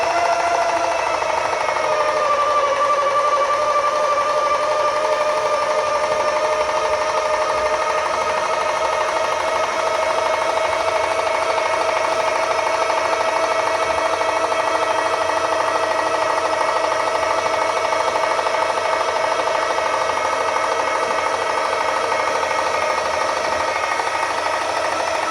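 An OUTFITR power chair scooter lift carrier raises a chair with a steady, continuous electric motor whine that holds evenly for the whole stretch, close by and with no talk over it.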